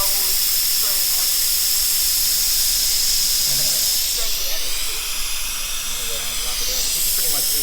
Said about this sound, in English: Right here, the bubbles spraying up.